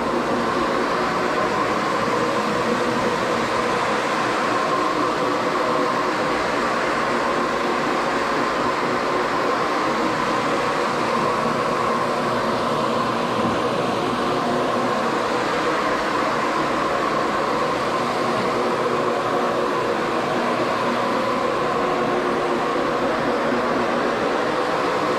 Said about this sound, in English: I'm going to go ahead and reverse the rotation of the cimex